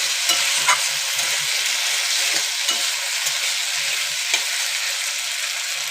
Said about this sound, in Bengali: ওর মধ্যে দিয়ে দেব কাঁচা লঙ্কা চেরা, দিয়ে আবার ভালো করে ভাজবো।